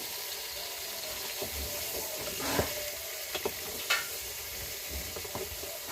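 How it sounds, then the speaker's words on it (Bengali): Vegetables poured over onions fry in hot oil in a village kitchen, giving a steady close sizzle with a few scrapes and clinks of a spoon against the pan. "ঝোল ভাজি সব কিছুতেই তো এই যে তেলানি ঢেলে দেওয়া হচ্ছে দেখেন পেঁয়াজের ভেতরে সব সবজি ঢেলে দেওয়া হলো"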